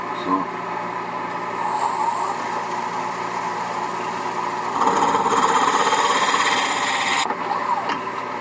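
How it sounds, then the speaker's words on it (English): A steady, whining drone with a rough grinding edge from drilling a wooden candlestick on a wood lathe, growing louder and harsher for a few seconds midway before easing back. "I'm doing it on the lathe because it's handier for me."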